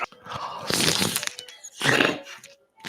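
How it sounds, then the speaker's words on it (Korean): Crisp, close crunches from biting into a chocolate-coated ice cream bar, two loud bursts of cracking coating with brief quiet chewing between. "초콜릿의 바삭함."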